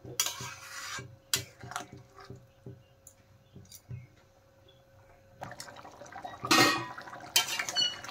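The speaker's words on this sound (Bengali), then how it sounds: "নেড়ে চেড়ে ভালো করে আমি সবজিটা ফুটিয়ে নেব" A paneer and vegetable gravy in a pot, cooked with sugar and green chillies, is stirred and left to simmer. A spoon scrapes and taps the pot in irregular bursts, with wet bubbling and louder clattering stirs toward the end.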